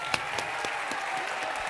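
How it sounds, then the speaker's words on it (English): Audience applause following a dance performance at a school annual day programme, a steady dense patter of many hands clapping, near and fairly loud, with no voices standing out. "applause."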